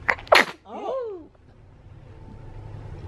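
A baby lets out a quick sharp sneeze at close range, followed by a soft high squeaky vocal sound before the room goes quiet.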